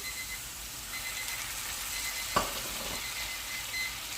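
Liquid hits a hot pan with a sudden hiss, settling into a soft steady sizzle against faint background noise.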